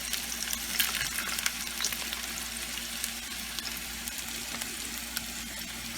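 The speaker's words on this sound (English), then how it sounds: "So I'm going to shallow fry them, not deep frying or like your regular fish fry" Fish sizzles steadily in a shallow pan of hot oil, a continuous crackling hiss with occasional pops, close and moderately quiet.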